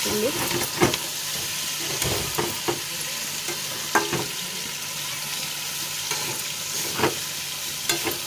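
Fish and potatoes frying in a pan, a steady close sizzle and hiss with periodic stirring scrapes and clacks across the whole stretch, no voices over it.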